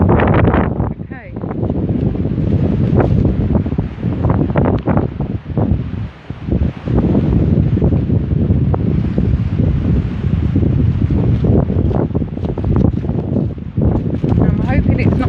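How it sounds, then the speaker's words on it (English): Wind buffeting a microphone outdoors along an avenue of old lime trees, a loud continuous rumbling roar with gusty swells throughout, no talk heard. "Try and shade the wind a bit from the microphone."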